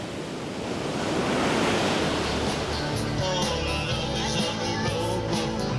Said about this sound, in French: Un des rares spots de la Grande Terre où le tranquille lagon laisse la place aux vagues.